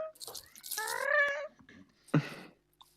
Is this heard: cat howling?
yes